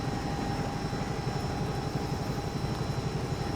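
A Bell 222UT helicopter in the X-Plane flight simulator drones steadily, with constant rotor and turbine noise, an unchanging mid-level whine and low throbbing that fill the whole stretch without any voices.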